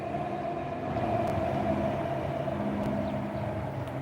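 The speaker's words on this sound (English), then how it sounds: "There's a nice suburban train." A suburban train bound for Dandenong rumbles steadily past at a moderate distance, a continuous low roar with a faint tonal hum, no voices.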